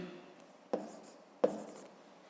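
A pen writes numbers on paper while working a fifth-grade subtraction exercise, giving two short, quiet scratching strokes spaced under a second apart against a soft background.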